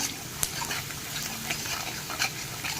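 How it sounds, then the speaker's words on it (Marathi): Salt and amchur powder being stirred into khichdi in a pot, a soft scraping and stirring with a few light clinks under a low background hiss, no voices. "सगळं मिक्स करून घेऊया"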